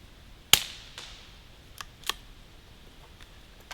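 An Anschutz 1710 rifle fires one sharp, close crack that decays quickly, followed by a few faint mechanical clicks against a quiet background.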